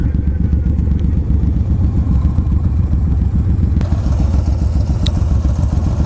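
A big cruiser motorcycle, either a 1900 Yamaha Raider or a 1800 Suzuki M109R V-twin, idles nearby with a deep, loping rumble of heavy, uneven beats and a couple of light clanks.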